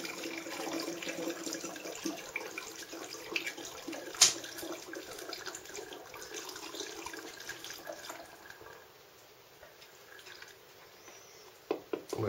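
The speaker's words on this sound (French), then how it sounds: "c'est une bouteille, un entonnoir, on remplit la bouteille d'eau chaude" Hot water being poured through a funnel into a bottle, a steady soft trickle and gurgle throughout with a brief clink midway and a few sharper knocks near the end.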